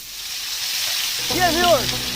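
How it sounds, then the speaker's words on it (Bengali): Tilapia frying in hot oil, a steady broad sizzle and hiss throughout, with a voice rising briefly over it in the second half. "তেলটা গরম হয়ে গেছে, দিয়ে দেবো মাছ।"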